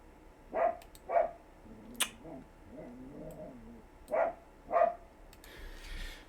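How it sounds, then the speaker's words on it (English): A pet dog shut outside barks in short, separate bursts, two close together, a single sharp one, then another pair, heard at a moderate distance through a quiet room. "I put her outside and she's barking like crazy at nothing."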